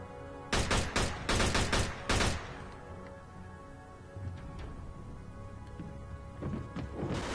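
Rapid bursts of gunfire from a shootout in Mafia 2 crack out in quick clustered volleys over the first two seconds, then give way to quieter game ambience with scattered thuds and a few faint shots near the end.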